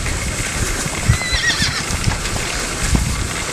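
A horse whinnies in a children's video game, a bright, loud neigh with faint clip-clop hoofbeats and game sounds underneath.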